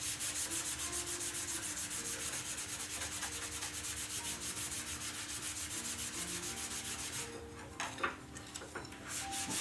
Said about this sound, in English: let's take that minute and sand the insides